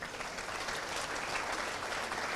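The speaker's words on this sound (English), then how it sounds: "give him a good round of applause" Steady applause from a college crowd at a freshers' day event honoring the chairman, dense continuous clapping throughout at moderate distance.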